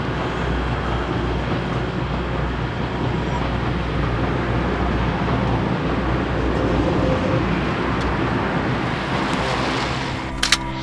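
A train passes close by on a wet day near Leeds, heard as a steady, loud rumble and wash of noise that holds through the whole stretch, with rain adding to the hiss and a couple of sharp knocks near the end.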